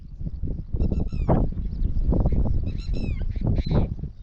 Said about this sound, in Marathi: एकीकडं टिटवीचा आवाज चालू आहे